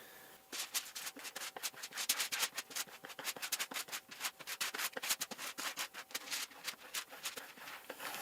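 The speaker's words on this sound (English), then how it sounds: "I think it's a scraper that is designed for a window covering" A window-covering scraper rubs over aluminum foil laid on a board, making rapid, repeated scraping strokes in close, crisp bursts with an uneven rhythm and no talking.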